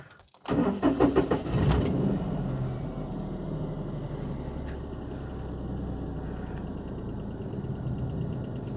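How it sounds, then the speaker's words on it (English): Warm Daihatsu Charade engine idling a little high: after a brief jangle and rattle at the start, a steady low hum runs close and even throughout, with no speech. "I've got the engine warm at the moment. Ticking over a little high."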